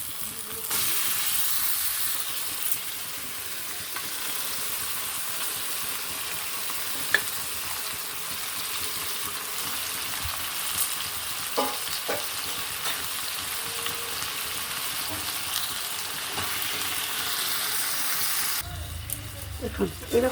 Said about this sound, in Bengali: এইবারে মাংসটা তুলে দেবো।